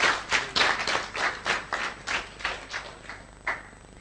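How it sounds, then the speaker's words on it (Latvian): An indoor audience claps together in a steady rhythmic beat, about two claps a second, loud at first and slowly thinning out; no one speaks over it. "Aplaus, kārtīgi!"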